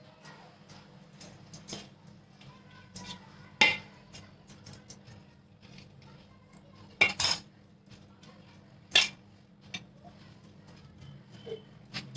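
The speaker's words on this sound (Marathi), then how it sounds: "गरम आहे ना ते त्यामुळे चमच्यानेच मिक्स करून घ्यायचं सगळं असं" A spoon mixing hot churma laddu mixture in a pan, with sparse, quiet metallic clinks and scrapes at irregular intervals over a soft background hum.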